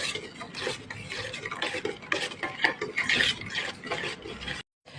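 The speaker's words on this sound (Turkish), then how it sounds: "3 kaşık şeker ekliyorum ve bu karışımı karıştırıyorum eriyene kadar." A spoon stirs a mixture of milk, water, yeast and sugar in a bowl, making quick, close, repeated clinks and scrapes at a steady pace before cutting off abruptly.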